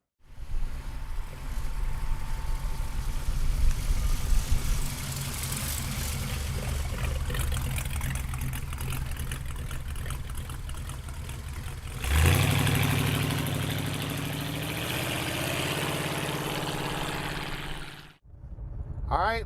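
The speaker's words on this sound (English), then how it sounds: "listen to that flathead roar" The flathead engine of a 1932 Ford street rod runs in a steady, moderately loud rumble, with a surge and a deeper note partway through before it cuts off briefly near the end.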